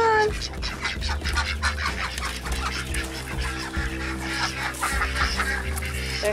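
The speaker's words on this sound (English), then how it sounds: "There's the baby ducks." A group of ducks with ducklings heading toward the water in the Smoky Mountains gives steady, overlapping quacks and honking calls close by, over a constant low hum.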